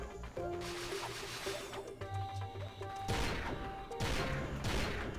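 A shotgun-like weapon firing in Ratchet and Clank, several heavy bursty blasts with crashing impacts spaced about a second apart, loud and close amid game sound effects and music.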